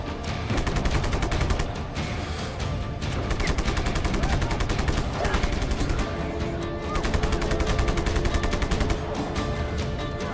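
Continuous rapid gunfire from the Just Cause 3 video game, dense loud bursts and rattling shots running without pause, with chaotic game effects layered underneath.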